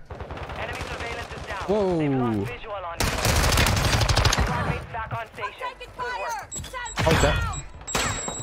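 Rapid bursts of FR Avancer rifle fire in Call of Duty MW2 Warzone at Vondel Park, loud sustained volleys with short pauses, while a player talks over the shooting.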